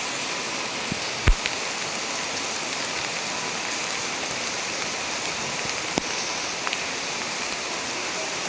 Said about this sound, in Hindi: आप देख सकते हो बहुत ज़्यादा तेज़ बारिश है